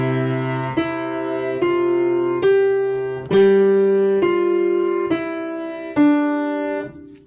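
Piano plays the opening two measures of Beethoven's Ode to Joy with both hands, a clear melody of sustained notes over a low accompaniment, each note struck cleanly in an even, moderate rhythm.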